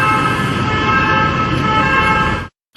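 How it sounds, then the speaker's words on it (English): An ambulance siren blares loud and close as a steady, continuous tone over road rumble, then cuts off abruptly near the end. "Ambulance."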